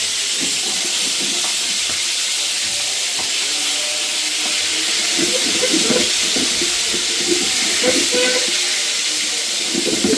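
Boal fish frying in a pan after being flipped, as part of a Bengali fish curry, giving a loud, continuous close hiss and sizzle with faint crackles throughout.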